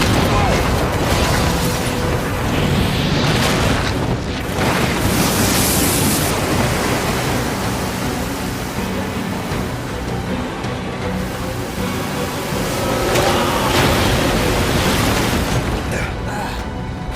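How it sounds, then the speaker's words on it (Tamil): Explosion on a dam in the video game Days Gone, followed by a loud, steady roar of rushing floodwater that runs throughout, with booming swells and surges near 4–6 and 13–14 seconds. "சரியான டேமுக்கு பாம்பு வச்சு மொத்த தண்ணியும் அவங்க இடத்துக்குள்ள பாய"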